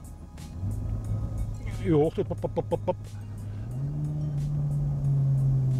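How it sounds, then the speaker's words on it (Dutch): Car engine running with artificially generated pops and vroom sounds, a steady hum that swells and rises in pitch near the end, while someone speaks over it. "En dan krijg je wat meer plofjes en vroempjes die vooral artificieel zijn."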